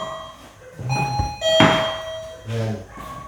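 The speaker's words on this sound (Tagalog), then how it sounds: "parang doorbell. Pag medyo dumaan ka ng konti dyan," A motion-triggered doorbell-like sensor chimes when someone passes, several clear tonal chime notes ringing out among thuds and soft background movement, close by.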